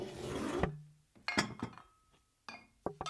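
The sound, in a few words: Play-Doh ingredients being put out on a table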